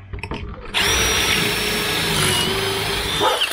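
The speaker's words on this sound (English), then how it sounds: "while you drill your hole" A power drill whirs steadily after a brief quiet start, running loud and continuous at close range for about three seconds while drilling a hole in a clamped board.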